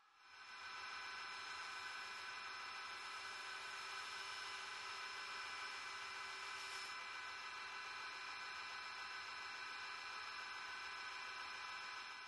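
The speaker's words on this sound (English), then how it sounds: "I'll switch to a 3M Trizac Gator Grit belt" A belt grinder running a 3M Trizac Gator Grit belt while finishing a knife gives a steady, bright, high whine with a hissing abrasive rush. It is close and constant throughout, with no talk.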